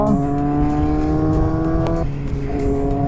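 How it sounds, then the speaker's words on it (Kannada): A Kawasaki Z800 sports motorcycle's engine hums steadily with a strong, tonal drone that drops in pitch partway through as the rider eases off, heard close and loud with wind noise behind it. "ಆ ಗಾಡಿ ಸೌಂಡ್ ಕೇಳೋಕ್ಕೆ ನಿಮಗೆ ಸಿಂಫೋನಿ"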